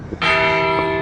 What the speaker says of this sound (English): that's that bell. Somebody just rang it.